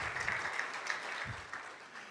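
Audience applause at a county awards ceremony, a steady wash of many hands clapping throughout the short stretch, fairly even and sustained without voices standing out.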